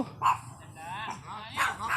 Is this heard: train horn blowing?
no